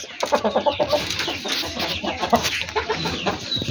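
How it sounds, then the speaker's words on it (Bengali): A large hill-breed rooster in a poultry yard clucks repeatedly at close range, giving short, choppy calls in an uneven rhythm with other fowl around it. "এই রাতাটা আরো বড় রাতাটা অনেক বড় সাইজ"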